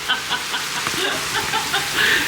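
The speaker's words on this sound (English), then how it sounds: "It's raining. It's raining." Rain falls steadily outdoors with a soft, continuous patter of drops pecking on surfaces close by, and no voices.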